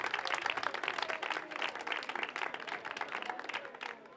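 Loud, lively applause erupts at the Mister Clown 2014 event in Falerna, a dense burst of close clapping from a crowd that holds steady and then tapers slightly at the end.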